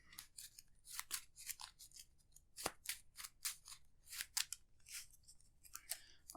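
Playing cards for the Arkham Horror card game are shuffled by hand, giving a run of quick, crisp riffling and snapping bursts at close range, fairly quiet, with no talking.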